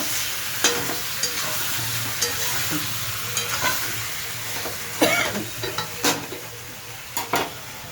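Spice masala sautéing in a pan with only a splash of water and little oil over low heat, a steady soft sizzle broken by irregular scraping and clinks of a spoon stirring against the pan.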